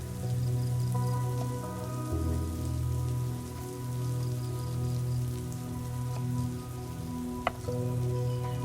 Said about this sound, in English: Now it's raining, so I have to hurry up.